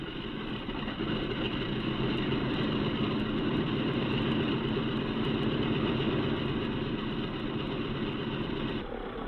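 A World War II B-17 Flying Fortress bomber's number 2 engine running steady and loud after its start, a dense, continuous piston-engine drone that holds without a break and drops slightly right at the end.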